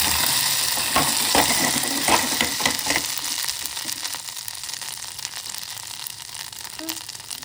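Raisins roast in a pan for payasam, giving a steady bright sizzle with occasional stirring scrapes, strongest at first and gradually easing, close and alone without voices.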